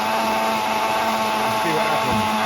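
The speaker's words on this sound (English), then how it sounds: "we've got it in the blender" Kitchen blender whirring at high speed as it churns homemade sorrel ice cream, a loud continuous motor whine with a steady hum and slight pitch shifts as the thick mixture catches near the end.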